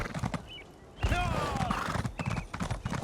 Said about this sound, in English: I've been trying to train this horse up